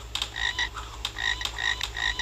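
Repeated frog croaks from the video game Bash the Teacher, a steady series of short rasping calls close up over a low background hum, with no talking.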